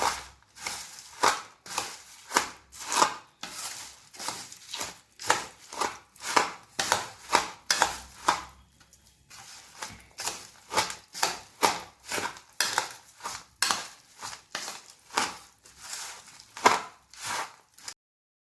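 Bhel is tossed and mixed in a bowl with tamarind-date chutney, giving a steady, rhythmic run of close scraping strokes about twice a second. The strokes break briefly midway, then continue.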